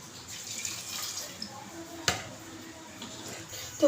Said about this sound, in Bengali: এতে জলটা দিয়ে দেবো